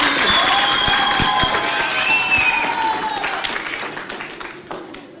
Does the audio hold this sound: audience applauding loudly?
yes